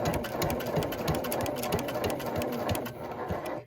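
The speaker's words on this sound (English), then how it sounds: "Just sew slowly and continue to watch the edge of your foot and the edge of the fabric" Sewing machine stitching slowly through thick denim from upcycled jeans, a steady close rhythmic whirr of needle strokes running continuously with no talk.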